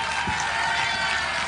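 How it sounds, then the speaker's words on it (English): Audience of parents applauding grade 6 and 7 students at a school event, a steady dense wash of clapping from a sizeable crowd, fairly even throughout. "I think students of grade 6 and 7 deserve a loud round of applause."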